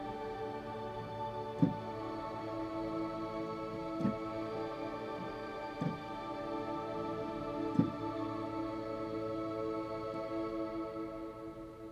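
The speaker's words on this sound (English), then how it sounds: "The next is called a choir shimmer, and this has got a lot of high end to it. It's kind of got almost like a choir sound to it." A choir shimmer synth pad on a keyboard, washed in heavy reverb, sounds as airy, choir-like held chords. The chords change roughly every two seconds with gentle swells, and the pad plays alone, fairly soft.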